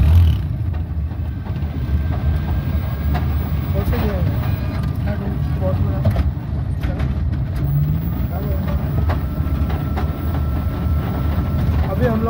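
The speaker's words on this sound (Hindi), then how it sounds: "हम लोगों ने गाड़ी को फोर्थ में डाला है और अब स्पीड टेस्ट कर रहे हैं हम लोग।" A Tata Magic van converted to electric drive rolls along in fourth gear during a speed test, a steady low rumble of road and cabin noise running throughout, with people talking inside over it.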